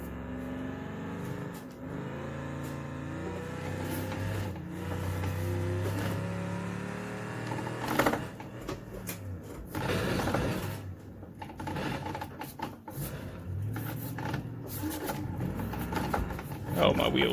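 A Logitech G920 racing wheel's force feedback motor gives off a whirring, grinding mechanical hum with shifting pitch, plus rattles and clicks as the wheel jerks, alongside game engine noise and occasional talk.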